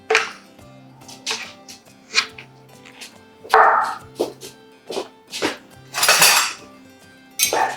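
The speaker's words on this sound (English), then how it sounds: "I think you can cut these into 6 pieces across the sheet pan" A knife cuts rich lemon bars into pieces in a metal sheet pan, making a close, irregular run of about a dozen sharp metallic scrapes and clinks against the pan, with no talking.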